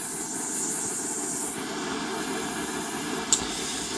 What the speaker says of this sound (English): So we have our airflow at 100 litres of air per minute at 485 degrees C.